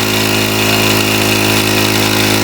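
A loud engine drones steadily at high power, a constant mechanical roar with no change in pitch and no voices.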